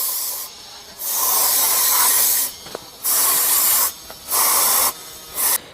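Aerosol cleaner sprayed onto a Tata Tiago diesel car's mass air flow sensor in four loud hissing bursts of varying length, separated by brief quiet gaps, close up with no voices.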